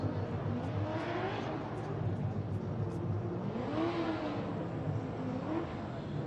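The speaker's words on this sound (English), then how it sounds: "And now Brody Goble warms up his tires." At a Formula Drift event in Seattle in 2015, a drift car warms its tires with rising and falling engine revs and tire roar, heard at a moderate distance over steady crowd and track ambience.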